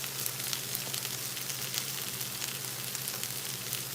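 Butter steak strips sizzle steadily in a pan over a low flame, a soft continuous hiss with fine crackling pops, quiet and close with no voices.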